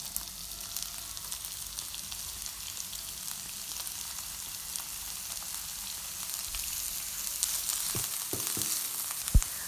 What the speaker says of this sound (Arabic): نجيب مقلاة وندير فيها زيت نباتي بعد ما تكون سخنت، ومباشرة ندير فيها البصل